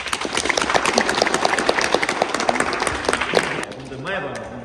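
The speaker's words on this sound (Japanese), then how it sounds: "拍手" Dense applause from a small group fills the room, with many quick overlapping claps that fade near the end as a voice begins talking.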